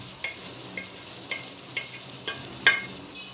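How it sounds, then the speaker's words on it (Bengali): Spices being stir-fried in oil in a pan for a chickpea curry, with a soft steady sizzle under regular scraping strokes of a spoon roughly every half second, ending in a louder scrape. "সবগুলো মশলা আমি আবারও ভালোভাবে কষিয়ে নিব। তেলেতে মশলা ভেজে নিলে কিন্তু খুবই ভালো হয়।"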